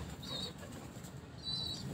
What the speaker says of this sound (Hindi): ये भी उस्ताद जी का इमामदीन कबूतर है